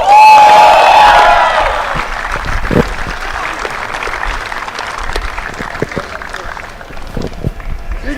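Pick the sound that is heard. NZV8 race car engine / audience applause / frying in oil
audience applause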